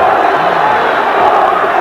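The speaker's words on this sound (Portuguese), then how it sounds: "E a torcida do Corinthians dá uma demonstração de confiança, gritando Corinthians, Corinthians." Corinthians supporters chant together in a packed stadium during a 1999 Brazilian championship match against Palmeiras, a steady, dense roar of voices filling the whole clip with a continuous crowd wash.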